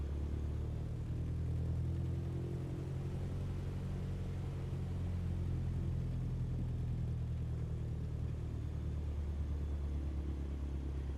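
A Cessna 152 engine at takeoff power in Microsoft Flight Simulator, making a steady, low, droning rumble that runs continuously without pauses.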